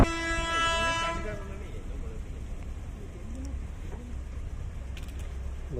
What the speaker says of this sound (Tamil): இன்ஜின் மட்டும் வந்துட்டு அப்படியே போயிடுச்சு. அது சர்வீஸ் இன்ஜின் காய்ஸ்.